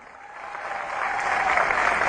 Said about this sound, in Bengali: ভাইদের জন্য জোরে একটা হাততালি